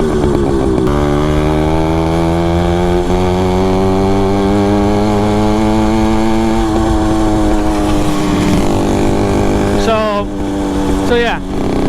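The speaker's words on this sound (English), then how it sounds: "my motor has over a year of use. It's still running strong" A cheap motorized bicycle engine with over a year of use runs steadily, loud and close, with a buzzing two-stroke drone that revs up near the end, while a person talks over it.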